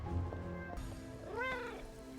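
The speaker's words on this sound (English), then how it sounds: "I just heard a cat" A cat meows once in the Midnight Suns video game, a short rising-and-falling cry over a steady low musical background, fairly close and clear.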